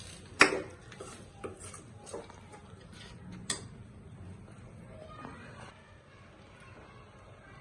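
Okra is added to a yogurt curry in a pan and stirred in with soft spoon clinks and scrapes, a few sharper taps early on over a low steady simmer, close and quiet.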